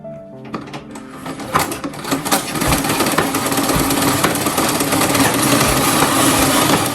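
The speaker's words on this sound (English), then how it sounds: "Okay, let's go to the sewing machine. Okay, we are about to sew the back cover." A sewing machine stitching the back piece of a button shirt, starting with a few clicks and knocks, then settling into a dense continuous mechanical whirr that grows louder and stays steady, close up.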